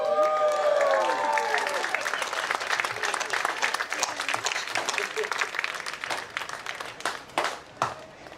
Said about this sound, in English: I want you to give a big round of applause to Eric Cage